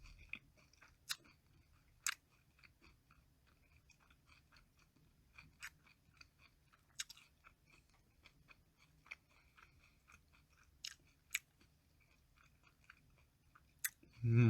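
Soft close chewing and biting while eating food, with sparse crisp crunches and clicks spread through a quiet stretch and a brief louder bump at the end.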